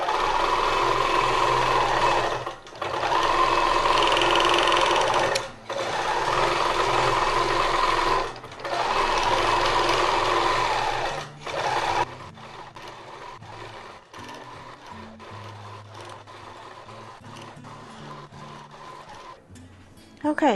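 Handi Quilter Moxie XL Pro longarm quilting machine stitching an edge-to-edge design at normal stitch length and 70% speed, a loud steady mechanical whir in bursts separated by brief pauses, then quieter handling noises.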